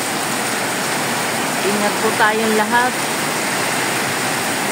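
Steady heavy rain with gusting wind, a dense continuous roar, while someone speaks briefly over it in the middle.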